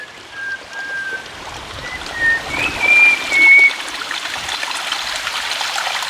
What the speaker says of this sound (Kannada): ಇಲ್ಲಿ ನೋಡಿ, ನೀರು ತುಂಬ ಹರಿದು ಹೋಗ್ತಾ ಇದೆ.